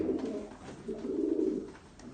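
Pigeons from a loft of mixed breeds, including a bloodline hen, coo in low, steady, overlapping rolls, close by and moderately loud, with no talking.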